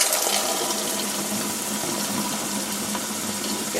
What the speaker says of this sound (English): You get loads of bubbles with these bath bombs.